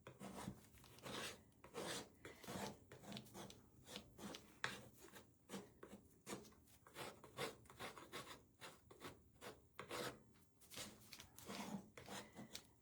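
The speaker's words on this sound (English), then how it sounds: "Now I'm going to use my scraper. And we're just going to scrape some of this off of here." A hand paint scraper rasps repeatedly across textured paint on a craft piece, a steady series of close, rough scraping strokes with no talking.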